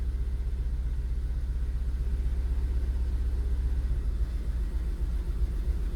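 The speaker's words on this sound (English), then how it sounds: "misfiring cylinder number 1, and the rest 3 are okay" A Vauxhall Astra J petrol engine idles with cylinder 1 misfiring, giving a low, steady rumble with an uneven pulsing beat, close and continuous with no voices.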